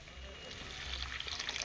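Water splashes and gurgles into a curry pan, a short steady pour with bubbly liquid texture, moderately close and fairly quiet.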